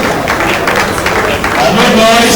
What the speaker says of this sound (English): A lot of applause, please.